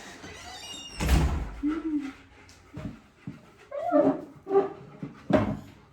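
An excited dog barks and whimpers in a home kitchen during baking, several sharp bursts spaced irregularly with a door thunk near the start; soft background sounds between the yelps.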